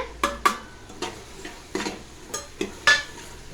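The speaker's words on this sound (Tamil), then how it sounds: "மல்லித்தூள், மிளகாத்தூள், கறி மசாலா தூள் போட்டு கிளறி விட்டுக்கலாங்க" A spoon stirs coriander, chilli and curry powders into masala for mutton biryani in a pot, giving a handful of separate scraping clinks at an uneven pace, close by, with no talk.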